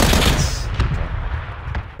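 Gunfire rings out in PlayerUnknown's Battlegrounds: a loud booming blast followed by a few sharper reports and a rumbling tail, close and heavy, with no speech over it.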